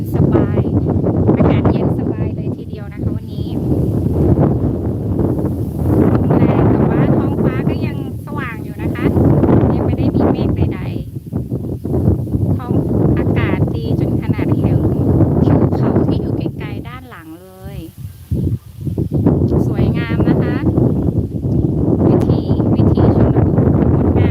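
Strong wind buffets the microphone outdoors in cool, breezy weather, a loud continuous roar that surges and eases in gusts with only a brief lull near the end; someone talks over it.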